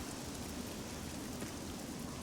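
Rain falling outside in Fallout 3, heard as a continuous even hiss of downpour, muffled and steady as if from indoors, with no voices.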